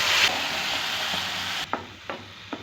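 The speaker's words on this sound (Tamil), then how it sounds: "இப்போ இந்த பாலும் கேரட்டும் அரைச்சி வச்சிருந்ததை இதில் சேர்த்துக்கிறேன்." Carrot and milk paste hits hot ghee with a loud, steady sizzle, then quietens, followed by three soft scraping stirs of a spoon in the pan.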